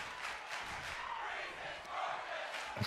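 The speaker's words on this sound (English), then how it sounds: "the crowd chant that Breeze is gorgeous" Wrestling crowd in an arena chanting in support of Tyler Breeze, a dense, steady roar of many voices with rhythmic swells, loud and continuous throughout.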